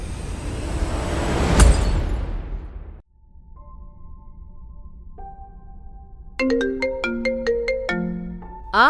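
A phone rings for an incoming call, starting as a short melodic electronic phrase and then a louder run of bright repeating tones, after a loud rumbling burst.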